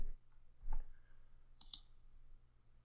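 A computer mouse clicks once on a link, a short, crisp click close to the microphone in a quiet room, with a faint tap just before it.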